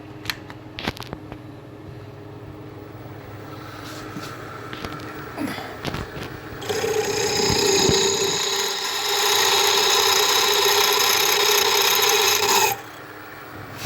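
On a Sieg mini lathe being rebuilt, a larger bit drills about an eighth of an inch into a part while fitting a handwheel. A few clicks and handling come first, then a steady, loud whining grind runs for several seconds before cutting off abruptly.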